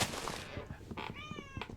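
A person imitates a cat's meow during a Minecraft stream, a short rising and falling vocal meow following brief chatter, near and fairly loud.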